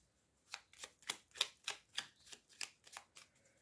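A deck of playing cards riffled and shuffled, a quick run of about ten crisp, evenly spaced flicks close by in a quiet room.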